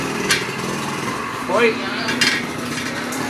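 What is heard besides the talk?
hammer blows knocking tire off wheel rim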